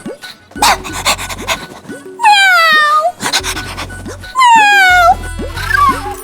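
A voice imitates a dog, with repeated bark-like yelps and panting bursts in short, loud spurts, alternating with brief higher whiny tones.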